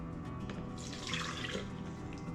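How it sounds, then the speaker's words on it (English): Water pours and splashes into a pot while rice and bean bowls are being cooked, a short close gushing stream with bubbly, uneven splashing. "now I'm gonna add my water."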